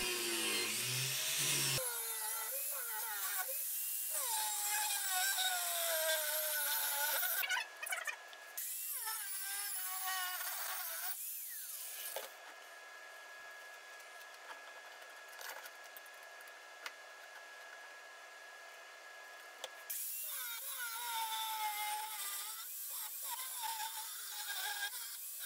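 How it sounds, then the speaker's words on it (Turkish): A power tool whines and grinds through a truck leaf spring steel knife blank in long, shifting passes, loud and close, with a brief pause partway. "Hazırlamış olduğum kağıt şablonu çeliğimizin üzerine yapıştırarak kesimle başlayalım."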